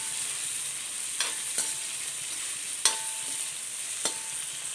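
Slit green chillies and bitter gourd sauté in a pan under a soft, steady sizzle, broken by a few sharp spatula scrapes and taps spaced a second or so apart, quiet and close.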